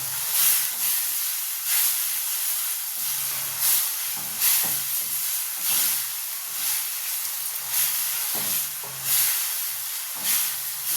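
A steady, loud sizzle and hiss fills the clip, pulsing in bursts like oil spitting in a hot pan after water is added while cooking Davanagere-style oggarane mandakki (seasoned puffed rice).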